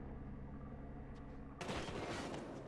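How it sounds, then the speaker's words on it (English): Gunfire erupts in a tactical shooter video game during a competitive finals match, a sudden loud burst of rapid shots cutting in after a stretch of quieter in-game ambience. "We do see some gunfire going back and forth"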